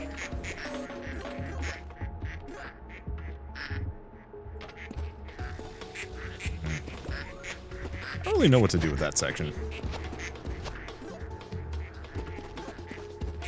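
Ducks in the video game Project PITT: scattered quacks over busy game sounds, with a burst of louder quacking near the end, heard under ongoing talk.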